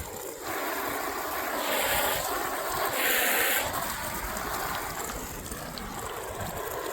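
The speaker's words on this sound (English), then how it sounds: "Now I'm going to rinse off the sides." Water from a hose hisses steadily as it rinses the sides of a Bestway pool, a continuous close splashing wash with brief louder surges and no talk.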